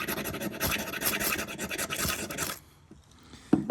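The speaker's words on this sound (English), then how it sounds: "if I scrape that coating off and secure my my ferro rod on the ground here or on my workbench" A blade scrapes the coating off a new ferro rod on a workbench, giving harsh, rapid scratching strokes for about two and a half seconds, then a pause and a couple of light knocks.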